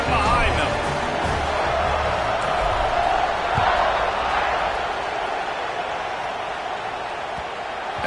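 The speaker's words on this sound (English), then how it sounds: "this crowd now ready to get behind them" Steady stadium crowd roar and cheering before kickoff in a College Football 26 game, Texas Tech at Notre Dame, a dense continuous wash of noise at even loudness, with a commentator talking over it.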